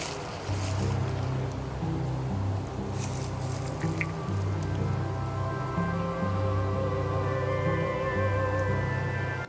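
Flowing water of Etobicoke Creek in a park beside a golf course in late autumn, heard as a steady, continuous rushing wash that stays even throughout with no voices.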